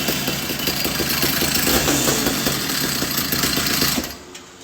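A Phantom 85 engine screams at high revs on a dyno, loud and close with a buzzy, steady tone for about four seconds before the throttle closes and the sound drops away.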